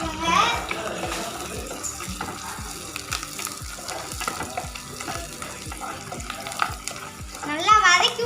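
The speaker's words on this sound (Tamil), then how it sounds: "நல்லா வதக்கி விட்டுக்கோங்க." Tomatoes with rock salt sautéing in a pan at a catering kitchen, with busy sizzling and repeated scraping stir strokes in a regular rhythm, close and fairly loud, with a voice speaking briefly over the cooking.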